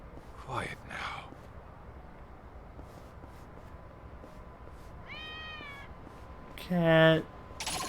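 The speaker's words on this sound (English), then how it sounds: "Cat." A cat in the Kaito Files video game gives a few short meows, two soft ones near the start and a louder, closer cry near the end, set against a quiet background hum with faint murmuring.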